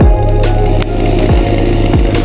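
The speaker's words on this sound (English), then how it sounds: "Using your chainsaw." A chainsaw being used to fell and clear trees buzzes loudly and continuously close by, its engine pitch dipping in rhythmic bogs as the chain bites into wood.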